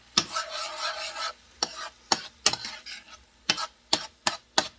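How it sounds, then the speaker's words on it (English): A spoon scrapes and stirs risotto in a pan, giving several short rasping strokes in an uneven rhythm with a soft sizzle running underneath. The sound is close and fairly quiet, with no voices. "stir this up really quick"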